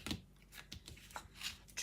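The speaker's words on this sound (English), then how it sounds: "I'm just going to take my scissors, trim off that" Scissors trim paper at a craft table in a series of quiet, close, crisp snips and rustles, five or six short cuts over barely two seconds.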